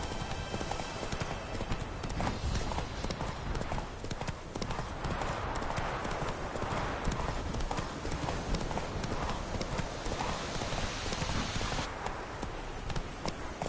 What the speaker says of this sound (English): Come on, Roach. Whoa there, Roach.